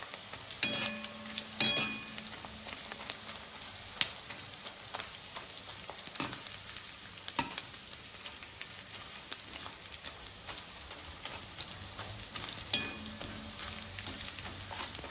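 Edible gum (dink) frying in a hot pan of oil and puffing up, a steady close sizzle with occasional sharper pops and crackles, no voices.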